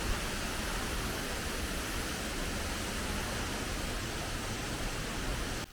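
La Chorrera waterfall in Colombia, a steady dense roar of falling water, close and unbroken for the whole stretch.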